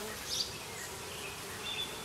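Honeybees drone in a soft, steady hum close by on a comb frame full of capped brood, with no talk.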